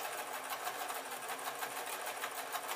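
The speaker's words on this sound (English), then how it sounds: "And then I just let the machine sew it." A 40-year-old sewing machine running a double needle through sarong fabric, a fast, steady, close whirring stitch rhythm heard alone for the whole stretch.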